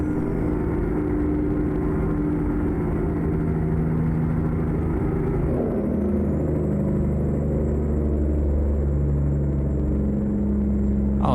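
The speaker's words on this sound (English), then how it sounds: "Always got to show the Jake brake." An Ironwerx IW900 truck pulling an empty GSL lowboy in American Truck Simulator holds a loud, steady engine drone that shifts midway into a deeper, rumbling Jake brake bark, with no talking.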